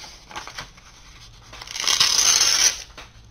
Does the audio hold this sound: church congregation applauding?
no